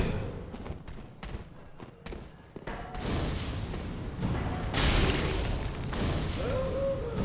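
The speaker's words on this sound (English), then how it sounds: "start lobbing fireballs at her" Fireballs hurled at a boss in Dark Souls 3 burst with loud booming whooshes over a continuous roaring game backdrop, the impacts growing heavier midway.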